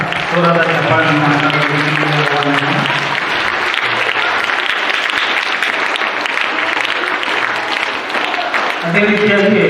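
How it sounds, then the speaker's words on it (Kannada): Loud, sustained applause from an audience fills a children's fair stage event, with a voice speaking over the clapping at the start and end. "ಜೋರಾದ ಚಪ್ಪಾಳೆಯನ್ನು"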